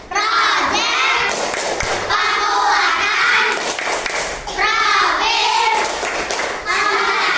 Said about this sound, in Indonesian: Tepuk P5.